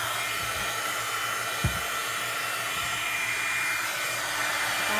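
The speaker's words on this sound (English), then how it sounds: "So I'm going to get my heat tool nice and hot" A craft heat tool blowing hot air to melt embossing powder, a loud, steady whirring blower hiss held close and running unbroken, with one small thump early on.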